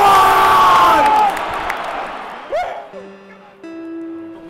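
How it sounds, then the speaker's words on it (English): A huge football stadium crowd roars and cheers as one, a dense swell of voices that fades, followed by brief sustained tones and scattered shouts. "The sound of thousands of souls crying out"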